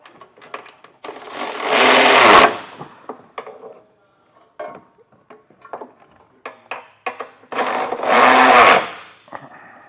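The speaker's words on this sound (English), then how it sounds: "Now we'll just go back through and get our hardware snugged down." Power tool snugging down bolts while installing a Curt trailer hitch receiver on a 2017 Lexus NX Turbo, two long loud whirring bursts separated by scattered clanks and taps of hardware.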